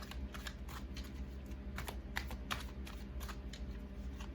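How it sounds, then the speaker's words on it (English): Rapid, quiet riffling clicks of cards being shuffled, a steady patter over a low background hum. "I have been shuffling these cards for a long time"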